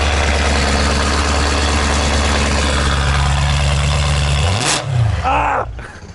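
A car engine at an auto show drones loudly with its exhaust valves closed, then swings through a quick rev, its pitch rising and falling near the end before the roar drops away, with a crowd around it.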